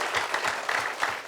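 A game show studio audience applauds a contestant in a brief, dense burst of clapping that stays fairly steady and moderately loud throughout.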